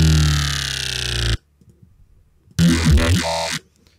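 A bright, buzzy dubstep synth bass note from Massive slides slightly downward in pitch bend, cuts off abruptly, and after a short silence a second gritty burst sounds for about a second.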